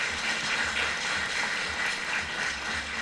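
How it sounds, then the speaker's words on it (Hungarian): Audience applause at a village heritage festival, a steady wash of clapping heard over a low rhythmic background hum. "nagy-nagy tapsot érdemelnek"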